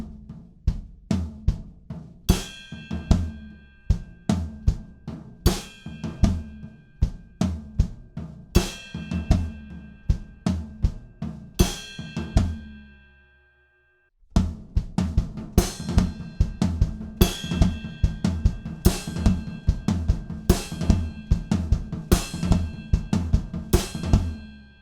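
Drum kit playing a chorus groove from Locked Out of Heaven, with floor tom, snare and ride bell in a steady driving pattern, loud and close, a brief pause midway before the beat resumes.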